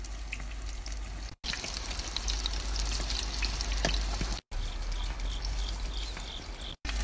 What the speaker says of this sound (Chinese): 小火慢炸， 炸至金黄